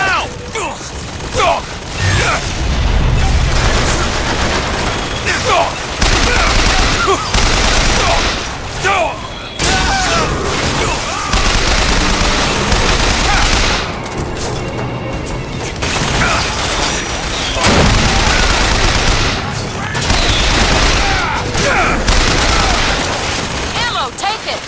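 An automated turret in Bioshock Infinite fires sustained, dense bursts through a loud firefight, with shots and booms layered on one another almost without pause.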